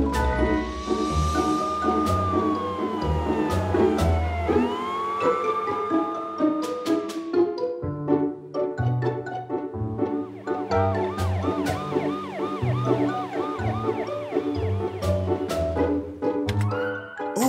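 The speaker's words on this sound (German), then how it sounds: "Verwandel dich in einen Krankenwagen, Morphel." A cartoon ambulance siren wails in a long rising and falling sweep over a busy cartoonish music backing, staying loud and continuous throughout.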